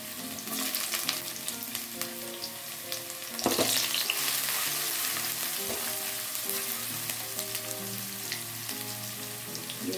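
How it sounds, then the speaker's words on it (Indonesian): Shallots and garlic sauté in hot cooking oil, a steady close sizzle with a stirring scrape around the middle and faint tonal sounds in the background. "Dan kita tumis bawang merah dan bawang putihnya"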